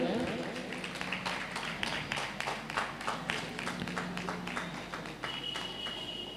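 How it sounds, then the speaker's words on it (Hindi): An audience gives a round of applause at a speech competition results announcement, scattered hand claps ringing out in a moderate, steady patter that tapers slightly toward the end. "जोरदार तालियां अंकुर भैया के लिए बजाएं"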